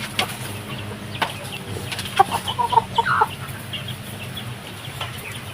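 Free-range village chickens on a farm clucking in short, scattered calls over a steady outdoor background, moderately close, with a brief cluster of louder clucks in the middle.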